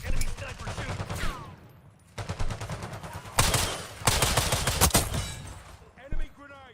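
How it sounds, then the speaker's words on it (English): Gunfire in the Call of Duty Black Ops 6 video game, with rapid bursts of shots and sharp cracks in several clusters, loud and close, over game voice callouts and chatter. "Enemy sniper shooting."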